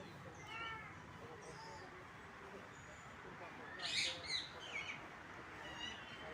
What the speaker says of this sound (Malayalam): റൈറ്റ് സൈഡിൽ കാണുന്നതാണ് റോസ് റിങ്ഡ് പാരക്കീറ്റ്, മോതിരത്തത്ത എന്ന് പറയും കേട്ടോ. അതാണ് ഈ കൂട്ടിലുള്ളത്